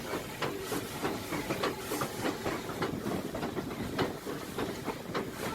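The Fairy Queen, a British-built steam locomotive on Indian Railways near Rewari, runs steadily with rhythmic clickety-clack and hissing steam, loud and close throughout without pauses.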